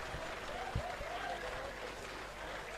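A home crowd at a 2019 Country Rugby League grand final applauds and cheers as the teams run out onto the ground. The clapping is steady and distant, with a voice talking over it.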